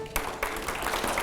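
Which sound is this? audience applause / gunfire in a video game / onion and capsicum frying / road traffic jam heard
audience applause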